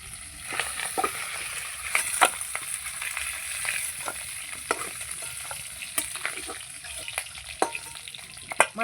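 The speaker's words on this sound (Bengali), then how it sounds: "মাছের মাথা আমার ভাজা হয়ে গেল" Fish heads frying in hot oil in a home kitchen, a continuous close sizzle broken by frequent sharp scrapes and clinks of stirring.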